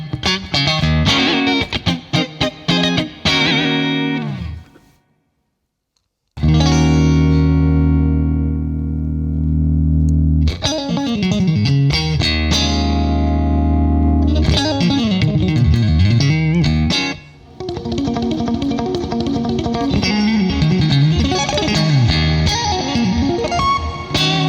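Electric guitar played through a PolyChrome DSP Lumos compressor, chords and riffs ringing with sustained, even tone, a brief silent gap near the start, then steady playing continuing without talk.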